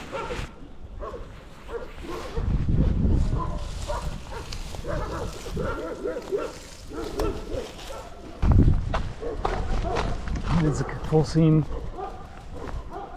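Many dogs, nearly all tied up, bark at a rural property passed during a long cycling trip along the Danube. The barks are intermittent and mid-distance, partly buried under someone talking over them.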